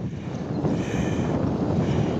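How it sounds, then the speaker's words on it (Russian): Wind buffeting the microphone in a rough, continuous low rumble, close and fairly loud, with no voices. "ветер поднялся"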